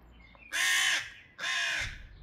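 Crows caw loudly in two long, harsh bursts close by, agitated at a cat up in a tree outside a rental home in Stavanger, Norway.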